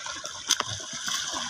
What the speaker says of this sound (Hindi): देखिए हमारे बच्चे लोग बारिश में मज़े ले रहे पानी में तैर के